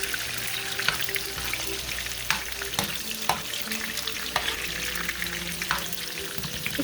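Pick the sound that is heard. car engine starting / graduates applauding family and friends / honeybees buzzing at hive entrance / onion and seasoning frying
onion and seasoning frying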